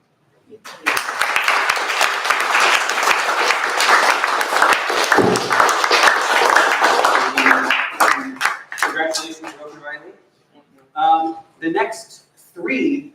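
Audience applause at a film and media completion ceremony, a dense burst of many people clapping that swells for several seconds, then thins into scattered claps and fades as voices take over near the end.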